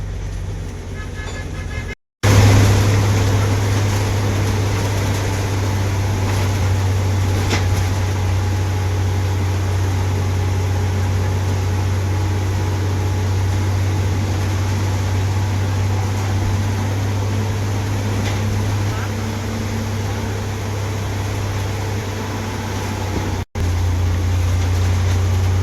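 A Tata BS6 CNG MSRTC red bus runs on a night journey from Thane to Shirdi, its engine droning loud and steady inside the cabin for a long stretch, with road noise and two brief dropouts.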